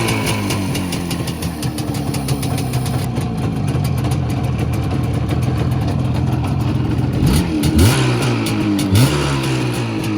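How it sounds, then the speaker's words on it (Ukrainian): A two-cylinder Izh Jupiter motorcycle engine runs close by with one cylinder misfiring, a loud, steady, uneven putter with a couple of short revs near the end. "От зараз гарненько роблять в принципі два циліндри. Але один чуєте підстрілює."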